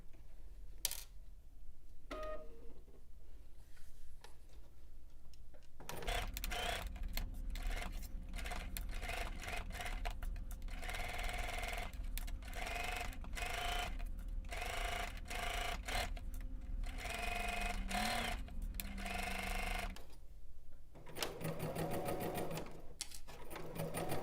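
A sewing machine runs steadily for about fourteen seconds, stitching down a shirt seam at a 5/8 inch seam allowance, with quieter handling noises before and after the run.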